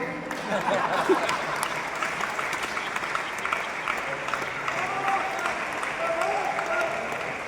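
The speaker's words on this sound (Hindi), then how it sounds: "आपको ज़्यादा ताली बजानी है।" Sustained audience applause fills a hall at a Jain community gathering, steady and dense throughout with no pause, under a faint murmur of voices.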